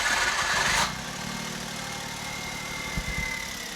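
A 2009 Smart Brabus engine, just reassembled, cranks and catches, then settles into a steady, fairly quiet idle close by, with a couple of low thumps near the end.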